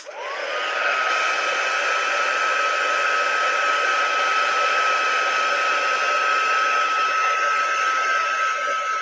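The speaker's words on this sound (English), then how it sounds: "So I shall dry him with my heat gun." A heat gun blows hot air over an altered book page. Its loud, steady whirring hum with a high whine holds unbroken throughout.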